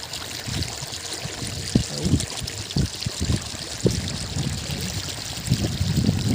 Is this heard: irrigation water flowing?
yes